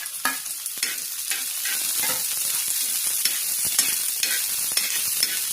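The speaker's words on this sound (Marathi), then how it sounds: "आता मिरची टाकली आहे खडा मसाला टाकते आता भाजायला।" Whole spices and chillies roasting in a hot pan, with a dense close sizzle and crackle under continuous brisk stirring and scraping, no voices.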